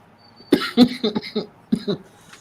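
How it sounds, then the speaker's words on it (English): A few short coughs in quick succession from a nearby man indoors, fairly close and moderately loud, with brief gaps between bursts. "Sorry, cough."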